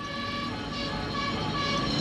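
A fire engine's siren wails loudly and steadily for two seconds, its sustained tones riding over a low road rumble, with no voices.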